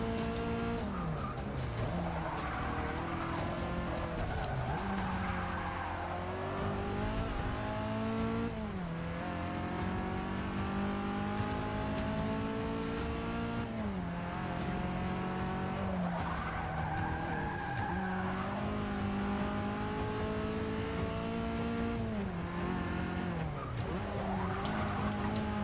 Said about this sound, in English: Decently fast car this for 130 horsepower.